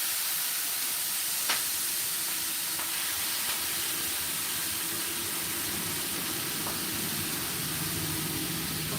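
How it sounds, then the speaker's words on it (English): Greens dropped into a hot pan with pork for sweet and sour pork, giving a loud, steady sizzle and hiss throughout with a few faint pops. "We're gonna put our greens in there, okay? Come on, put our greens in there while it's still popping."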